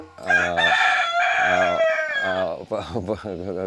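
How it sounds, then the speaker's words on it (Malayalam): A rooster crows loudly close by, one long drawn-out call followed by a few shorter, choppy notes. "കോഴി ഇതിനിടയ്ക്ക് എന്തോ സംസാരിക്കുന്നുണ്ട്"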